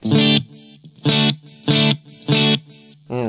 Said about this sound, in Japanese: スタンダードなディレイ